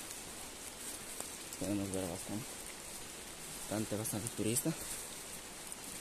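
Steady rain patters on the trail to Gocta waterfall, a soft even hiss filling the background while people talk briefly over it.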